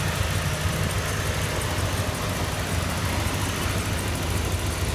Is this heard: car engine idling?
yes